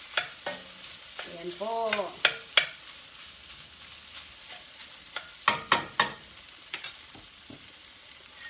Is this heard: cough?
no